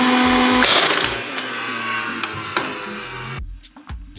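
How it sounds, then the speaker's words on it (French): A concrete nailer fires nails into a steel drywall rail during a bathroom renovation, making a loud sharp mechanical burst followed by a few quieter clicks and knocks, ending with a short near-silent pause. "On appuie sur la gâchette et ça cloue tout seul."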